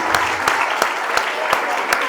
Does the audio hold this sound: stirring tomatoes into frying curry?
no